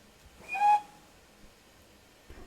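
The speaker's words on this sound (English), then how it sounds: "Right, so let's blow the whistle." A steam locomotive whistle in a railway simulator game on the Dean Forest Railway, one short shrill blast standing alone over a quiet background, followed by a faint thump.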